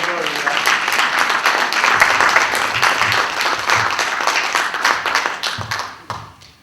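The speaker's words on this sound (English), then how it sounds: "Let's give a round of applause for Dan Van Doren." A conference audience applauds a speaker with dense, steady clapping that holds for about six seconds before tapering off at the end.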